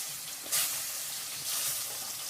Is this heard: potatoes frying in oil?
yes